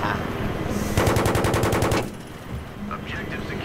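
Automatic gunfire in the video game Battlefield 3 rattles out in a rapid, loud burst of about a second, followed by quieter in-game sounds and small blips.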